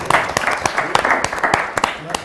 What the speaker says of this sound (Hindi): तो हम उनके लिए एक दफ़ा ज़ोरदार तालियां